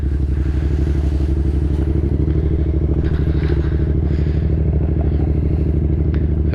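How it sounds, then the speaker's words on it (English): A 2018 Yamaha MT-07 motorcycle with a new tune and quieter exhaust idles slightly fast, a steady loud throbbing beat with fine rapid pulses, close and constant throughout. "This thing is idling a little bit faster too."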